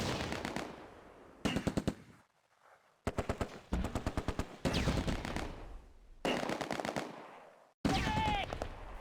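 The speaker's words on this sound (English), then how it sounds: "We're under heavy fire." Gunfire from the Close Combat: A Bridge Too Far war game, set in Operation Market Garden, comes in loud rapid machine-gun bursts separated by short pauses, with sharp single shots and a ricochet-like whine near the end.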